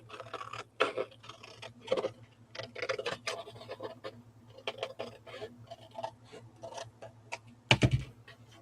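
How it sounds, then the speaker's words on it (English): Scissors or a blade cut paper along a line for a scrapbook page, giving a quiet, close series of irregular snips and scratchy rasps, ending in a louder knock. "So I'm going to cut right down this line."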